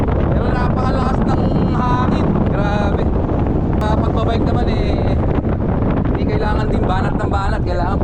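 Strong wind buffets the microphone during a long bike ride in Ilocos Norte, a loud constant roaring rush, with a voice talking faintly underneath.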